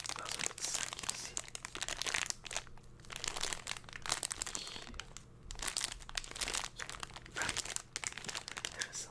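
Close, crinkly rustling and crunching of a small plastic bag holding board game dice and tokens, handled in soft irregular bursts with brief pauses, quiet and intimate.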